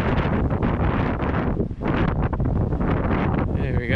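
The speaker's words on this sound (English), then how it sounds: "And the wind is raging from them hills back there." Strong wind roars and buffets across a remote New Zealand backcountry valley campsite beside a tent, loud gusty rumbling that fills the clip, briefly dipping before surging again, with faint voices near the end.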